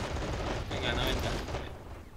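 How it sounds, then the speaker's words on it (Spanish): Gunfire in the Men of War video game, a fusillade of rapid distant shots and machine-gun bursts at low volume, mostly crackling together in a short cluster. "Toma, están cayendo muchos tiros."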